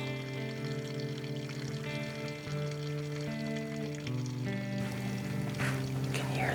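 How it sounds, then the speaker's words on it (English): Water pours steadily out of a pipe with a continuous splashing rush, close and unbroken throughout, over a low humming drone. "Water's just coming out of the pipe."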